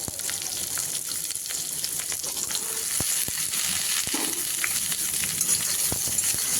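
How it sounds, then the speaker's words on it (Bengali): Slit green chillies and reddened potatoes fry in hot oil, a steady close sizzle with occasional clicks and stirring taps from the pan, no voices. "আলুগুলো লালচে করে ভেজে নিয়েছি, এবার দিয়ে দিচ্ছি চেরা কাঁচা লঙ্কা।"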